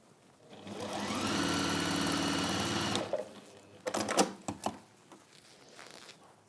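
A sewing machine runs in a steady whirring burst for a couple of seconds, then stops, followed by a few clicks and handling noises.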